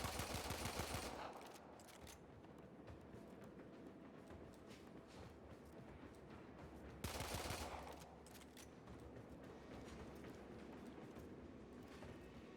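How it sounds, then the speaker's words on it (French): Rapid automatic gunfire from weapons in the video game Warframe, fairly loud bursts at the start and again midway over a steady busy background of game noise. "t'entends mes bruits de balles?"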